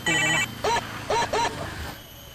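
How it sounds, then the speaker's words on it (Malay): A telephone rings in short, bright electronic bursts: a longer tone at first, then three brief rings in quick succession, close and loud against a quiet room. "Pon kau bunyi lah"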